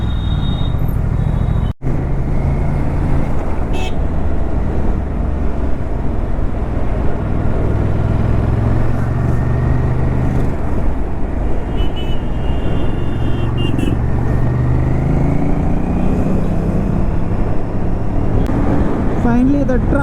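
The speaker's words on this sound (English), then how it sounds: "So at least for next 25 kilometers I'll be stuck inside this kind of traffic." Dense city traffic in Hyderabad is heard from an RS 457 motorcycle, with a steady loud engine and road roar, passing vehicles and occasional faint horn toots throughout.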